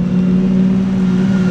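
A twin-turbo Lamborghini Gallardo's engine holds a loud, steady high-revving drone, a continuous close engine note that sustains evenly without gaps or breaks.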